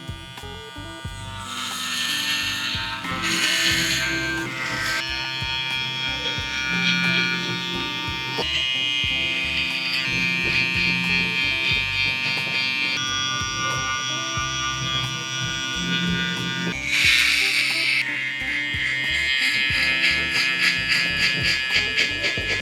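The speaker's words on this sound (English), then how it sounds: "So I'm gonna go with my shaver here." Electric hair trimmer buzzing loudly and continuously during a mid fade haircut, its whine rising and falling in pitch as it moves against the hair.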